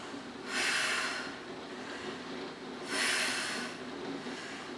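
Two big, forceful exhales during a Pilates interval workout, each a breathy rush lasting about a second, a couple of seconds apart, near the microphone with no talking.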